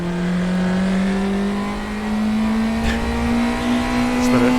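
An NSU race car in RaceRoom Racing Experience, held mostly in second gear on the Nogaro circuit, gives a loud, steady engine drone whose pitch climbs slowly as it pulls through the power band, with no pauses.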